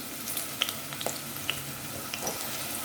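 Onion and dried chili frying in hot oil in a pot for a cabbage curry: a steady close sizzle with scattered sharp pops and crackles, no voices.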